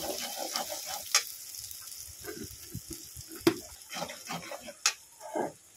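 Ginger garlic masala stir-fried in a pan for a meat curry, a close sizzle broken by repeated scraping stirs and a few sharp clinks of the spoon against the pan.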